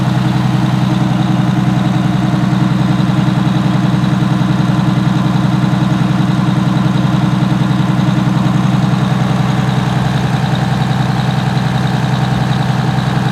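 An Allison V730 transmission runs with the engine idling, recorded up close at the gear or pump section: a loud, constant low drone with a steady mechanical whine layered on top, unchanging throughout and without speech.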